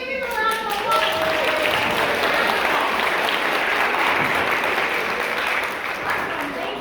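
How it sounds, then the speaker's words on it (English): An audience at a preschool keynote breaks into sustained applause for around seven seconds, a thick wash of claps with a few voices and a brief tonal sound near the start. "Let's give him a round of applause."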